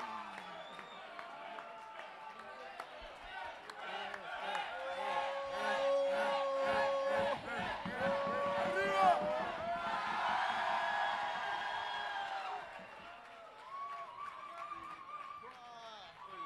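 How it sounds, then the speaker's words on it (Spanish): Crowd at a Johnnie Walker battle-of-the-bands contest cheering and clapping for a company representative, with whoops and shouts rising over amplified talk and music, loudest in the middle before easing off. "Un aplauso para el señor Johnny Walker"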